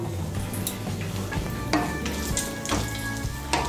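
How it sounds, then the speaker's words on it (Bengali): Whole spices and a dry red chilli sizzle in hot oil as they are stirred for tempering: three cardamom pods, two cloves and a piece of cinnamon. The frying is steady and close, with scraping stirs and no talking. "ফোড়নটা দিয়ে একটু নাড়াচাড়া করে নেব।"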